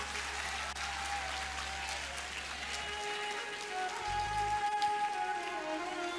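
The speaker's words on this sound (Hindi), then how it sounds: "बच्चों एक बार जोरदार तालियां बजा दो" A school audience of children claps loudly for a welcomed guest at a motivational session, a steady dense wash of applause that runs on without a break, with a low hum underneath.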